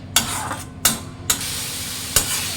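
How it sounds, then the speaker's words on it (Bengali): A Bengali spice paste with sour yogurt fries in oil for rui fish kalia, a steady close sizzle cut by four sharp scraping strokes of a stirring spoon at uneven intervals. "এখন টক দইটা দিয়ে দেবো। সারা পর্যন্ত একটু ভালো করে কষবো"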